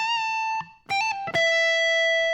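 Electric guitar lead notes from a solo, with a sustained bend, then quick hammer-on and pull-off between neighboring notes, ringing out clearly with no voices.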